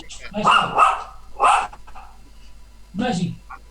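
A small blind female dog barks close by in a few sharp bursts, a couple in quick succession and another after a pause.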